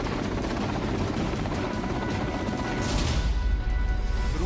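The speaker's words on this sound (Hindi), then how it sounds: "रूसी सेना का सबसे खतरनाक KA-52 हेलीकॉप्टर एक के बाद एक यूक्रेन के सैन्य ठिकानों को नेस्तनाबूद करता हुआ नजर आया" Russian army Ka-52 attack helicopter during air strikes on Ukrainian military sites, a loud steady rotor roar with heavy low rumble throughout, growing stronger in the last second and a half.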